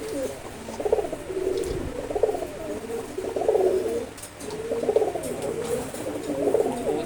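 Fighter pigeons coo close by in a steady, repeating rhythm of soft, throaty calls, roughly one every second or two, with no talk over them.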